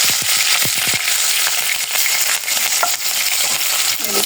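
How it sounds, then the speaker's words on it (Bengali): Panch phoron and green chili hit hot oil in a pan, giving a loud, dense crackle and spitting sizzle with sharp pops throughout, no voices. "তেল দিয়েছি, এই যে পাঁচফোড়ন দিয়ে দিলাম, এই যে কাঁচা লঙ্কা দিয়ে দিলাম"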